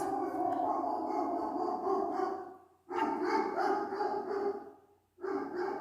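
A dog gives sustained, howling bark-like vocalizations in three long phrases separated by short pauses, fairly faint and heard alone.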